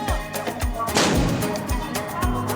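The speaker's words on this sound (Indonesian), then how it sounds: "Pengurus masjid mengatakan dentuman suara meriam sebagai penanda waktu berbuka puasa dan imsak tiba." Carbide cannons fired at a mosque to mark the breaking of the fast, a rapid run of sharp booming blasts about half a second apart, close and loud, one longer rumbling burst in the middle.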